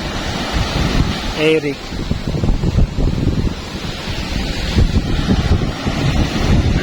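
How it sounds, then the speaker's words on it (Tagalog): Heavy wind buffets the microphone at sea off Anda, Bohol during Typhoon Kiko, with big waves surging and crashing around a boat; a brief voice calls out over the gusting noise. "Grabe, lalaki pa rin ng alon"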